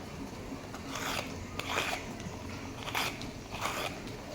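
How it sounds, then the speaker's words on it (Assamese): Ridge gourd being peeled with a hand peeler, a series of short scraping rasps repeating every second or so, close and moderately quiet over a faint background hiss. "এইডালৰ সহায়তে জিকাখিনি চেলাই ল'ম"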